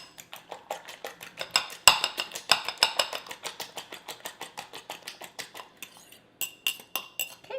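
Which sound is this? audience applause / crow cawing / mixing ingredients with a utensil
mixing ingredients with a utensil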